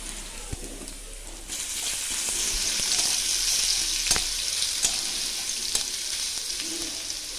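Five crushed garlic cloves, added after black cumin seeds, fry in hot oil with a steady close sizzle that swells after a second or so. Occasional clicks and stirring scrapes come through with no talk.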